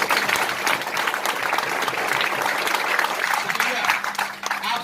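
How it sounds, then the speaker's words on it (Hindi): An audience at a Hindi-language event claps for a guest, dense continuous applause filling the whole stretch at close range, fading slightly near the end. "एक बार मेहमान के लिए ताली बजा दीजिए।"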